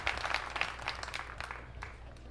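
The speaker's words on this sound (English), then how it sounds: "Nice round of applause from a packed crowd here" Applause from a packed crowd at the opening rack of the 2023 Alfa Las Vegas 10-Ball Open pool final, a steady dense patter of clapping that fades slightly over a couple of seconds.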